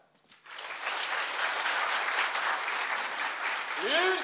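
An audience at a live comedy show bursting into sustained applause to vote for a performer, dense clapping that swells quickly and holds steady, with a short whistle-like cry near the end.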